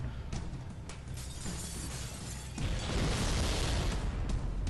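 Glass shatters as a breaking effect in the video game Halo: Combat Evolved, a bright crackling burst that swells partway through into a louder, sustained noisy rush of game sound.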